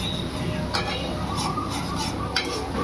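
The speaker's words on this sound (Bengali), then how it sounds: "আমি পুরো মশলাটা কিছুক্ষণ ধরে ভেজে নেব" Turmeric and cumin powder spice mix fries in a hot pan with a steady close sizzle, while a utensil scrapes and stirs through it in a few distinct strokes.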